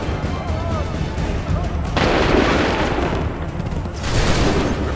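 Musket volleys in Assassin's Creed 3, loud crackling bursts of massed fire rolling in two waves over a constant battlefield roar, with shouted commands mixed in.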